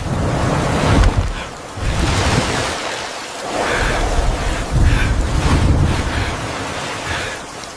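Sea waves and surf wash in steadily at close range, swelling and receding in broad surges with a gusty wind rush over the whole stretch and no voices.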